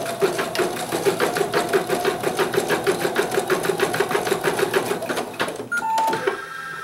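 An embroidery sewing machine stitches a raccoon's eyebrows and nose onto a mug rug, giving a fast, even mechanical chatter of needle strokes for several seconds before stopping with a few clicks and a whir.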